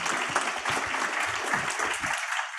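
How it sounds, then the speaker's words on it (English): An audience at a book launch applauds a panel. The clapping is steady, full and close throughout, with some faint voices underneath. "let's give a round of applause for this panel"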